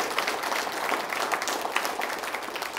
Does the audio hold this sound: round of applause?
yes